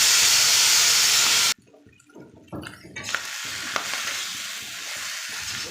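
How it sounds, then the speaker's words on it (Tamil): Masala with curry leaves and pepper frying in a pan for a village-style country chicken curry: a loud hissing sizzle stops suddenly, then scraping stirring sounds, and a steady frying hiss returns. "சேர்த்திட்டு நல்லா இதை வறுத்துக்கலாம்"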